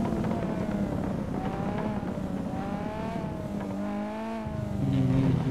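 An off-road car in GTA 5 races with its engine revving, a continuous loud motor whine that rises and falls in pitch as it accelerates, with a tire squeal at moments.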